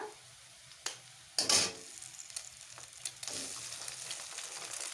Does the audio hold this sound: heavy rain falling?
no